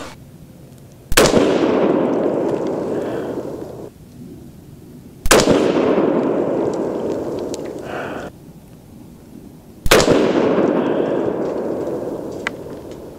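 A custom Grey Ghost AR10 rifle fires three loud shots of handloaded .308 Win rounds with 155 g Lapua bullets over CFE 223 powder, spaced about four seconds apart, each with a long rolling echo outdoors.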